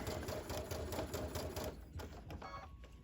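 Sewing machine running steadily while stitching a long seam, a close, fast continuous whir that slows and stops near the end, followed by a few lighter mechanical clicks.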